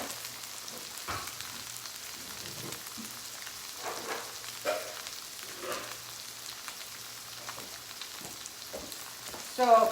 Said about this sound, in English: So now we're just gonna brown them on the other side.